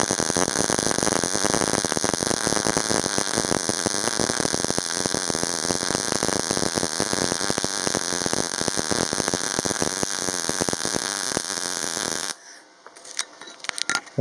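MAG welding with a Parkside PMPS200B1 welder in smooth-current mode at 80 A: a steady, loud crackling buzz runs continuously for about twelve seconds, then stops abruptly, leaving faint scattered clicks.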